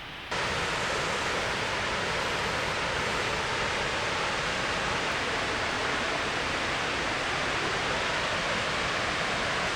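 Waterfall on Iceland's Laugavegur and Fimmvörðuháls hiking trails, a steady, loud broadband roar of falling water that starts abruptly and holds constant with no voices.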